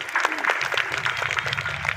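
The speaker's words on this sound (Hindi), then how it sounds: "एक बार इनके ताली बजाकर के स्वागत करें सभी लोग।" An audience at a Vedic religious discourse claps to welcome helpers, a steady patter of hand claps from a small crowd lasting a couple of seconds, with a voice speaking faintly beneath.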